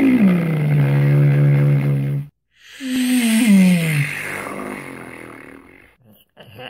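A human voice imitates a Star Wars spaceship, with a sustained pitched drone that cuts out briefly, then a second sweeping, wavering whoosh that trails off into hiss.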